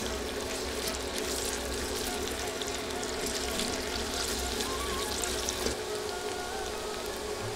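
Chopped onions frying in hot oil while being stirred in a pan, a soft continuous sizzle and crackle with faint scraping, fairly quiet and steady throughout.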